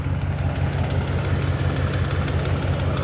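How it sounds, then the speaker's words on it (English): A Dodge Dakota engine idles steadily and close by, with a continuous low rumble and a faint repetitive rattle from the front belt drive running through it. "Got a rattle going on. I think that's off the belt drive itself."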